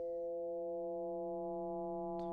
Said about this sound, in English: As I turn this up, you'll see and hear the effect that the modulation is going to have.